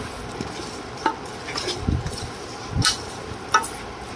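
Chicken dum biryani marinade is stirred in a bowl, with soft scraping and a few sharp clinks of a spoon against the rim, close and steady with no talk.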